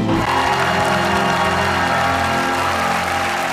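Audience applause at a televised dance performance, with a judge giving a standing ovation; steady, dense clapping and some cheering fill the whole stretch, loud and close, over a held musical tone.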